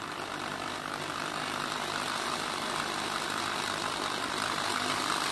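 A mini 12-volt DC dynamo generator spinning at slow RPM gives a steady, continuous whirring drone with a broad airy hiss, holding an even level throughout with no talking.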